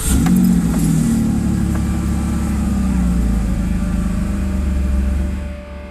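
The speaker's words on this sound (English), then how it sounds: "I'll go ahead and start the engine" A 1998 Pontiac Firebird engine runs close and loud at a steady idle, a deep even rumble that holds for several seconds and eases off slightly at the end.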